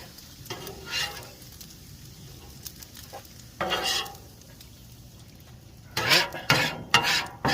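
Bacon crusties are scraped off a Blackstone griddle with a spatula, a few separate rasping strokes over a quiet sizzle, the last ones close together and louder.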